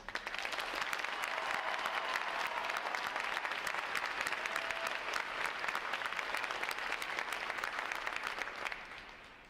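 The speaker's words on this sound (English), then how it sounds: "Please join me in giving them and the 9 other graduating divisions here today a round of applause" A large crowd at a U.S. Navy recruit training graduation ceremony applauds loudly and steadily for several seconds, the clapping tapering off slightly at the end.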